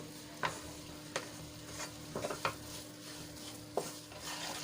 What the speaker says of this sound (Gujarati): આ રીતે આપણે સતત એને હલાવતા જ રહેવાનું છે જ્યાં સુધી આપણો લોટ શેકાઈ જાય ત્યાં સુધી